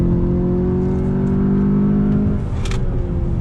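A 2020 VW Jetta GLI engine drones loud and steady from the cabin, then its pitch drops away as the car slows under braking ahead of a downshift, with a brief high squeal near the end.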